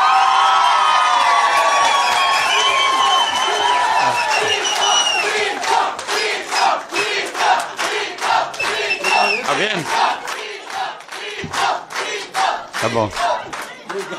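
A crowd at a public hearing in the Brazilian Chamber of Deputies cheers loudly and continuously, then breaks into rhythmic clapping and whoops; a voice speaks briefly as it goes on.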